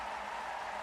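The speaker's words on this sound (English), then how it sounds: "The crowd really urging her on." A packed crowd at the London 2012 Paralympic cycling track roars and cheers a rider on, a steady loud wash of sound with no break.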